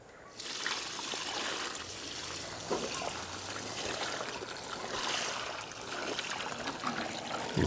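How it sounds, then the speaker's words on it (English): Water trickles and splashes steadily into a low garden planter bed holding tomatoes and vegetables, a close continuous pouring with brief surges, heard alone. "All right, we'll get some water in here."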